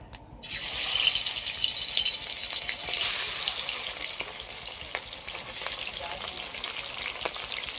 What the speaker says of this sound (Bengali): তেল গরম হয়ে গেছে এবার মাছগুলো সব ভেজে নেব